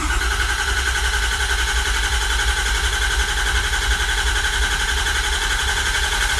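A diesel engine idles steadily just after firing up, with a fuel pump still running alongside; a continuous, even rumble and hum holds at constant loudness throughout, with no talk over it.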